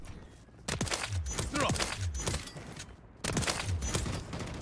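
Shots from a new sniper rifle in a first-person shooter video game, two sharp cracks a few seconds apart, loud and close, with someone talking excitedly around them.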